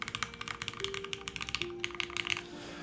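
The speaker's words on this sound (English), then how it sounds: "I'm going to start typing on this" Fast, even typing clatters on a compact ergonomic keyboard with a top-mount feel, crisp close keystrokes in a steady run, with a faint tone sounding underneath.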